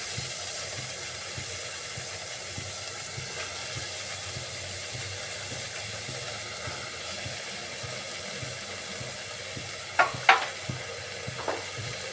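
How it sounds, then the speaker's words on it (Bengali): Soaked rajma and soybeans being stirred and fried with spices in a pan give off a steady close sizzle with soft scraping, and a few sharper clinks of the spoon against the pan come near the end. "এবার মশলার সাথে ভালো করে মিক্সড করে নিচ্ছি"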